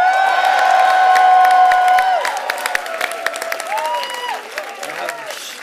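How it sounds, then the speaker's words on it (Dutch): A crowd at an election-night results party for GroenLinks/PvdA cheers and claps, loud at first and tapering, with whoops and sharp claps scattered through and voices mixed in. "Nog niet te hard juichen"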